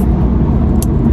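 A car speeds past outdoors on a sunny California street, a loud, close, low engine and road rumble that fills the moment.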